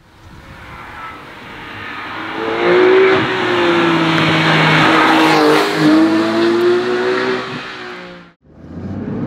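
A 991.2 Porsche 911 GT3 Touring engine revs as the car drives by, rising from a low hum to a loud, sustained, high-pitched howl with shifting tones, then cutting off abruptly.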